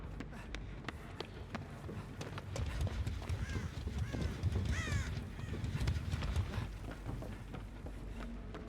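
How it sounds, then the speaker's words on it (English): Crows cawing in Dead by Daylight gather around an inactive player, a few faint caws over a low rumble of game ambience and footsteps, with no voices. "I'm too inactive. The crows will appear."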